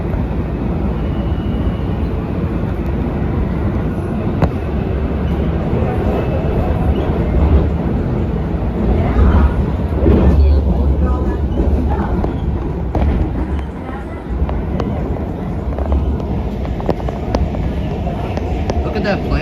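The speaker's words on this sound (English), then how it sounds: "Alright, train's leaving." A Yellow Line metro train rumbles and hums as it pulls away from Ronald Reagan Washington National Airport station, a steady low rolling drone with building motor whine, heard from inside the car.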